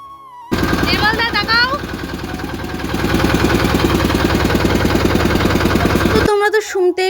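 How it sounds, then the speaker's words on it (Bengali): A generator runs aboard a river boat, a loud, close, steady chugging drone with a rapid regular pulse that holds throughout and grows slightly louder midway. Brief voices or other sounds rise over it near the start. "নৌকায় এই যে জেনারেটার যা এত পরিমাণে আওয়াজ তোমাদের একটুখানি শুনিয়ে দিই আমি"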